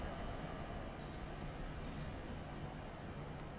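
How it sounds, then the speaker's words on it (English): A train rolls into a station in Train Simulator 2017, heard as a steady, faint rumble of wheels and engine throughout with no voices. "And there comes our beautiful train into the station."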